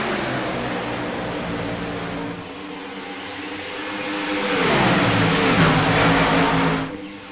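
Race cars in the iRacing game run together around a superspeedway, their engines droning steadily and swelling louder into a rising, shifting roar as the pack passes close before the sound eases off.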